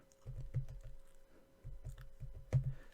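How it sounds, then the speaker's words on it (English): Keys tapped on a keyboard to enter text, two quick bursts of light clicks separated by a short pause, quiet and close with no voices. "We do have the ability to type some text in."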